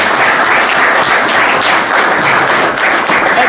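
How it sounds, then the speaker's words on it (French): Sustained applause from an audience at a Congolese political gathering: a dense, steady wash of many hands clapping, loud and close, with no break for the whole stretch. "Est-ce qu'on peut applaudir?"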